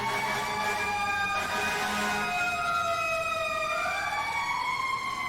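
A fire truck's mechanical Q siren in the video game EmergeNYC winds up and sweeps through rising and falling tones, loud and sustained over a steady engine rumble.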